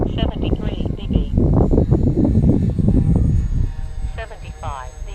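A twin-engine Skywalker RC plane with 10x45 propellers and 3S or 4S batteries flies overhead, its motors giving a continuous buzzing drone that swells and fades as it passes, with someone talking over it throughout.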